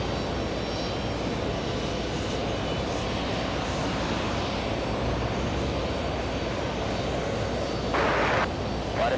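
A jet airliner roars through a takeoff at JFK Airport, a steady broad engine rumble that stays loud and close throughout, with a brief brighter hiss swelling near the end.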